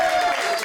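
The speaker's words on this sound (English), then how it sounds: "A little bit more round of applause." Brief burst of comedy club audience applause at a Soup of the Day stand-up show, a short dense patter of clapping with a voice faintly audible over it.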